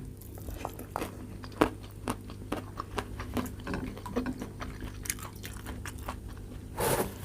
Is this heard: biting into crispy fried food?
yes